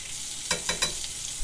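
A T-bone steak fries in a cast iron skillet with a steady, close hiss of sizzling fat, broken by a few soft clinks or stirring sounds.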